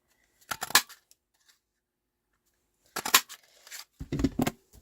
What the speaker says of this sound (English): I'm just going to cut a few of these out.